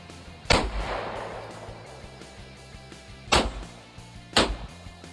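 Three sharp shots from a Canik BB pistol crack out, spaced irregularly, each with a short ringing tail, close and fairly loud with no voices.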